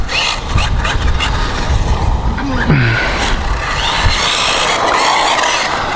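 A ZD Racing 08425 1:8 scale off-road 4x4 electric buggy makes a speed run outdoors, its motor whine steady and moderately loud against broad road and wind noise for the whole stretch.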